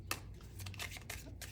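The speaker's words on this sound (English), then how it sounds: "There's some ugly shuffling, eh?" Tarot cards shuffled by hand in quick, uneven bursts of papery riffling, close and fairly quiet, with several distinct flurries spread over a second and a half.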